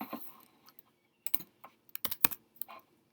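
Typing on a computer keyboard, with short bursts of clacking keystrokes separated by pauses, fairly close and clear, with no one talking.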